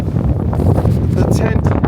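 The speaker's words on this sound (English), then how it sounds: "But we've got gusts." Strong wind gusting at a freezing campsite during a freezing rain storm, with gusts around 50 km/h over frozen ground and a frozen tent; loud, continuous roaring buffets against the microphone for the whole stretch.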